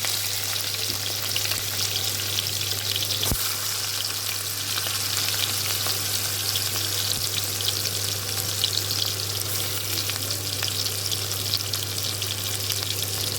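Chopped onions and green chillies fry in a pan, a loud, constant sizzle and crackle with occasional stirring scrapes, close up and without talk.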